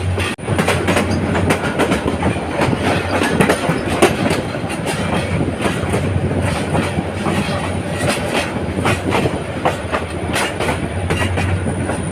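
The Tista Express passenger train runs on the Dewanganj Bazar to Dhaka line with a loud, continuous rumble and rhythmic clickety-clack of wheels on rails, heard close throughout.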